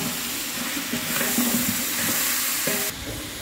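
Tomato, curry leaves and white and green pepper sautéing in a pan, a continuous hiss of frying with occasional light stirring scrapes, fairly soft and steady.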